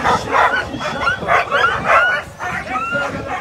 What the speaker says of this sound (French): C'est le chien qui jappe.